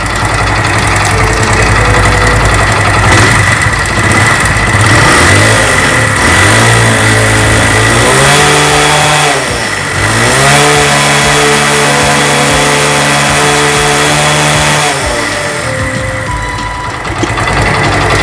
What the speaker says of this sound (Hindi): गाड़ी का जो पिकअप साउंड है वो काफ़ी अच्छा है गाइस।